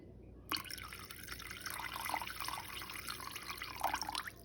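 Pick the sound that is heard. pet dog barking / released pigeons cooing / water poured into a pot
water poured into a pot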